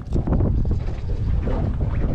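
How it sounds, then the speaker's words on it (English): Strong wind buffets the microphone in a steady low roar with gusty swells on a boat on a lake flat, loud and close, with no voices. "Okay, folks, it's so windy"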